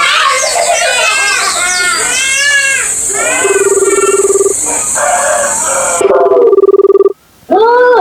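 A telephone rings with steady electronic tones in two bursts, mixed into a busy comedy-sketch scene full of warbling, rooster-like and cat-like sounds.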